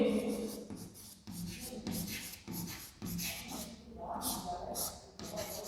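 Chalk or marker scratching and rubbing on a classroom board as a teacher writes out an angle problem, in short strokes with brief pauses, close and fairly clear.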